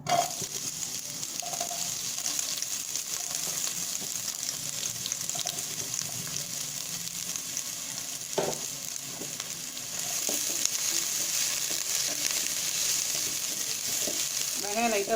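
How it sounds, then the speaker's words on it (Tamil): Onions frying in about two spoons of oil in a pan, giving a steady, close, continuous sizzle with faint clinks and stirring noises, and no talking. "வெங்காயம் போடுறேன்."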